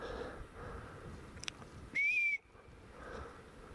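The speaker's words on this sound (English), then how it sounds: "They're whistling behind the flags." A single clear, sustained whistle rises above steady outdoor background noise, lasting under half a second, with faint murmuring around it.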